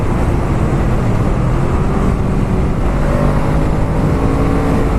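A Honda CMX 500 Rebel motorcycle engine runs loud and steady with a constant close-up drone, as if recorded while riding, with no speech over it.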